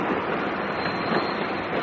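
A steam-era stopping train to Plymouth rumbles along the rails at Newton Abbot, a dense continuous roar with faint rhythmic clatter, heard close and steady in a vintage mystery drama.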